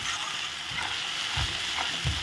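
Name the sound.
sautéing spices with cumin, coriander and ginger paste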